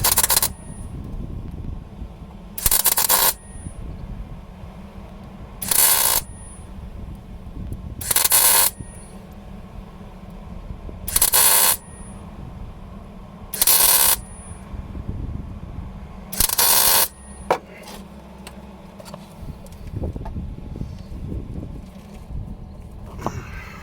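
A welder on its lowest power setting lays short bursts of welding, about seven evenly spaced loud crackling buzzes, each roughly a second long, separated by quieter pauses with faint background rumble.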